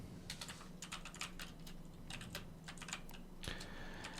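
Quick bursts of keystrokes on a computer keyboard as a search term is entered into a Shopify admin search bar, irregular clusters of soft clicks at close range over a faint steady hum, no talking.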